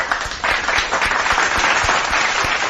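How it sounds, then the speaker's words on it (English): A group claps in a fairly close round of applause, individual claps audible within a steady, moderately loud patter. "let's give a big round of applause to everyone I just read in the chat there"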